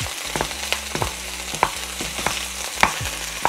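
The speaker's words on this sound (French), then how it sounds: "Pendant que la viande cuit" Taco meat sizzles steadily in a hot pan, with a spatula scraping and stirring in a rough repeating rhythm, close up and with no voices.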